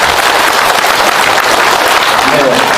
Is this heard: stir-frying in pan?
no